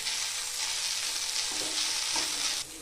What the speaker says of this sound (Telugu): ఇప్పుడు మెల్లగా కలుపుకుందాము।